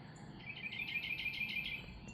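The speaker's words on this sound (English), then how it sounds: "Every kind of bird sound you can imagine." A bird in a Maryland June morning repeats a quick run of high, bright chirps for about a second and a half, moderately near over a faint outdoor background.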